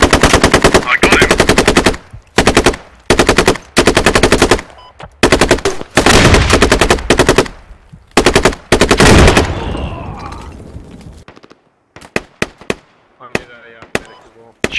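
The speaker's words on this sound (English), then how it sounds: "Shots from the southeast." Sustained automatic gunfire in the video game Squad, loud bursts of rapid machine-gun fire in repeated strings, then scattered single shots later, with some voice chat mixed in.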